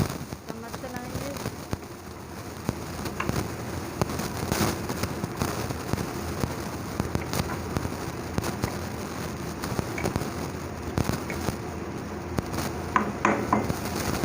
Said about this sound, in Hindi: चम्मच चलाएंगे।